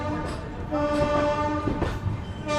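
A train at Varanasi Junction rumbles along with a sustained tonal horn blast over the rolling noise, and a few clanks and bumps come through as the cars pass nearby.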